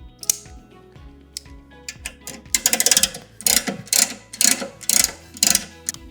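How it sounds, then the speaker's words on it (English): A ratcheting wrench turns lug nuts while a spare wheel is installed on a Chevy Camaro, giving rapid metallic clicking in several quick bursts that grow louder and more regular toward the end. "take the ratcheting wrench and flip the switch on it"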